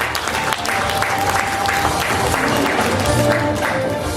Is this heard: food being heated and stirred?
no